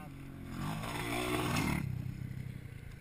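A motorcycle jumping on a dirt track sounds a short, near engine surge with clattering and scraping for a second or two, then fades into a rougher idle.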